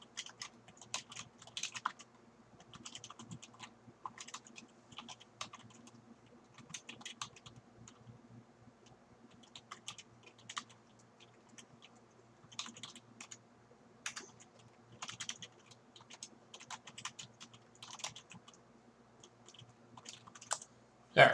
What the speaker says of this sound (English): One second, I'm typing.